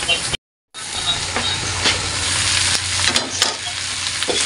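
Pork ribs sauté with garlic and onion in a pot, a loud continuous hissing sizzle with occasional stirring clicks, briefly cut to silence near the start.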